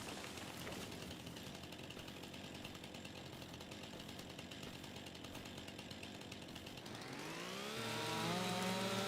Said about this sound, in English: I've got 2 different chainsaws and they've actually got a different sound